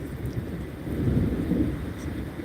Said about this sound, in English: Can you hear that thunder?